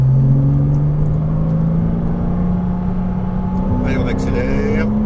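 A Porsche Cayman S accelerates during a driving lesson on a course, its engine note rising steadily in pitch under an instructor's voice, with a brief clatter near the end.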